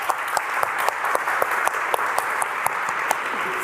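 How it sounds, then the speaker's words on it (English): Audience applause at a conference award announcement during Dataiku Summit London 2025. A crowd claps steadily and fairly close, with distinct hand claps standing out over a continuous wash of applause. "Round of applause, everyone, for Katie."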